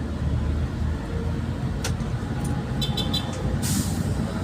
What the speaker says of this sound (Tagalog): Motor lang. Motor ng traffic. Heavy traffic.